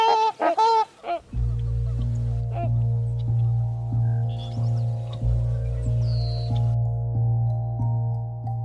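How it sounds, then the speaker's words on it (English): Trumpeter swans in Yellowstone give a few loud, nasal honking calls near the start, then a sustained musical drone carries on beneath. "the trumpeter swan, North America's largest waterfowl, has returned to the skies over Yellowstone"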